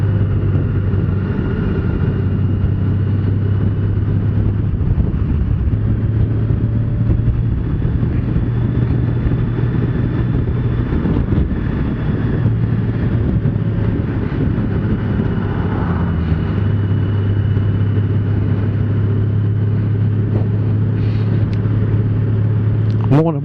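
A 2018 Honda Goldwing motorcycle engine runs steadily through a test ride, a continuous low rumble with wind noise and a drone that rises and falls slightly, with no talk heard.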